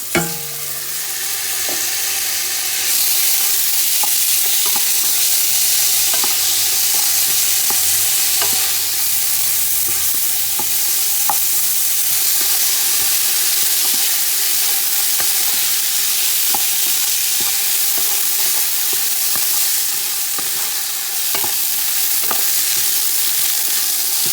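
Onions for chicken biryani fry in a pan with a loud, steady sizzle, while a utensil stirs and scrapes in repeated clicks and knocks throughout, with no talking.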